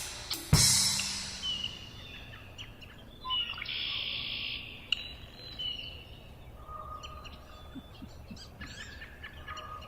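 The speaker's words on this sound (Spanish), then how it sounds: "Así suena un coro salvaje al amanecer." Several birds call and chirp at different distances against a faint outdoor hiss, with a sharp knock early on and no voices.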